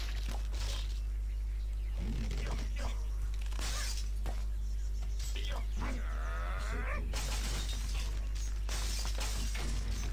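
Structures smashing in an Angry Birds Friends tournament level on PC, with repeated crashes and shattering bursts of breaking blocks over a constant low hum, while a voice talks over the game.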